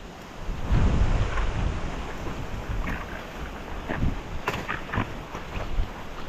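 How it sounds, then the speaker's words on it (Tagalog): Strong typhoon wind roars through a coconut plantation in heavy gusts, buffeting the microphone with low rumbling surges and scattered rustling fronds close by. "Ang hangin delikado sa palapa."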